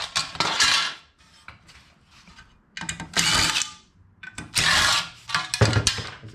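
Aluminium parts being unscrewed from a scrapped ceiling fan, with bursts of metallic clinking and scraping in three or four clusters separated by short quiet gaps, close and fairly loud.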